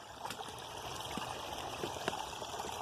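Water trickles and runs steadily over a beaver dam in a wooded stream, a soft continuous flow with small splashes, heard close and alone.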